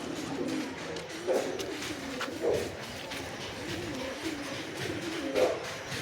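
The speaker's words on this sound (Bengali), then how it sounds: "এই এক কালদম পায়রা" A kaldam pigeon, a giribaz flying breed offered for sale, coos softly in a few low, throaty bursts spaced a second or so apart against a quiet room background.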